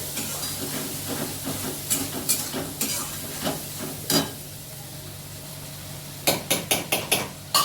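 Chopped chicken for ghugni goes into a hot pan, a steady frying sizzle running under a string of sharp spatula scrapes and knocks that cluster into a quick burst near the end.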